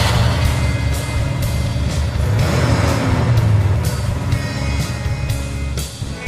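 A Chevrolet Chevelle LS6 454 big-engine convertible drives past with a deep, rumbling engine roar that stays loud and close, with repeated sharp clicks throughout.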